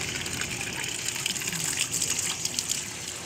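Ingredients for Ilocano balleba being rinsed under a steady gush of running water, a continuous close splashing stream with small bursts, no voices.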